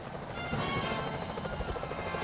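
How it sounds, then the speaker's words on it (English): A security helicopter in the Sly Cooper video game thrums steadily with a rapid, rhythmic rotor chop, loud and continuous throughout, with no voices. "Those security choppers are bad news."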